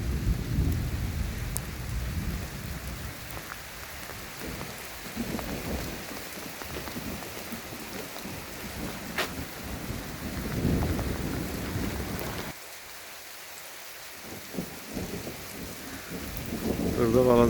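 Steady rain falls on a rocky mountain landscape, with rolling thunder rumbling through it. The downpour stays loud and continuous, the low thunder swells and fades, and a brief quieter lull comes near the end before the rain grows strong again.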